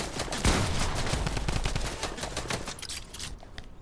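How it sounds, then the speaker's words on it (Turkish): Rapid bursts of gunfire in the video game Fortnite crackle continuously, dense overlapping shots at steady loudness with a sharper blast near the start, no voices. "Bak bak bak çatıdan sıkıyor kaçık."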